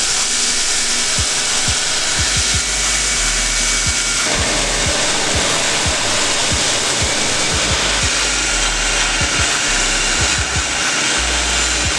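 Power grinder working over a forge-welded Damascus steel knife billet, a loud continuous whine with repeated knocks and scrapes as the steel is pressed and shifted against it, with no voices.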